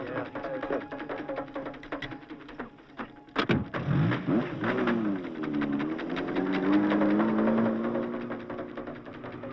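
A car engine cranks and catches about a third of the way in, then runs with a steady, wavering hum that rises and dips as it revs, loud and close, during a kite-flying outing near Kilimanjaro among the Maasai.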